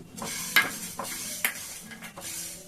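Low crackling sizzle of black and white mustard seeds frying in a pan with a few metallic scrapes and clinks of a spoon stirring, close and fairly quiet.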